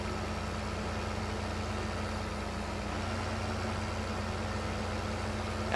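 A tractor pulling a planter in Farming Simulator 15 runs steadily at a constant low drone, a continuous mid-level engine hum with no talk over it.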